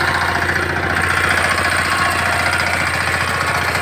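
A four-wheel reaper binder for cutting wheat runs in gear. Its engine drones loud and steady throughout, close up, with a rough, knocking vibration.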